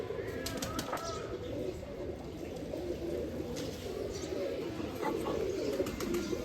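A female Sakhi pigeon coos softly and steadily alongside other birds in a loft, with a constant low murmur of calls and faint chirps throughout.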